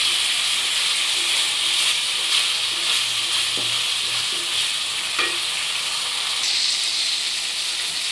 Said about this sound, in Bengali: এক থেকে দুই মিনিট আমি এভাবে একটু নাড়বো ঘুরিয়ে ঘুরিয়ে, যাতে মশলাগুলো শুটকির গায়ে একটু ধরে।